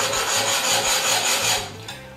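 A wire saw drawn steadily through ceramic and along wood, giving a close, loud, continuous rasping scrape that fades near the end.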